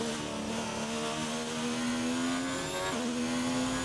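A Haas Formula 1 car with a Ferrari engine in the F1 2019 racing game, revving hard with a loud, steady high-pitched whine that climbs, dips briefly at an upshift, then climbs again.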